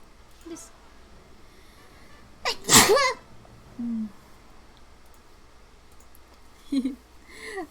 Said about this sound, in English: Sneezing on stream.